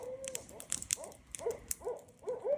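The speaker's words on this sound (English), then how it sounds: "Man, that owl's got endurance." An owl hoots repeatedly at night, a series of clear, fairly close calls in an uneven rhythm with brief pauses between them, with no talking over them.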